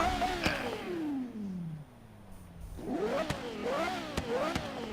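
A flat-plane crank V10 car engine in Need for Speed Most Wanted revs hard, its pitch climbing and dropping through quick gear changes, with a long falling sweep before it builds again in repeated sharp surges, close and alone.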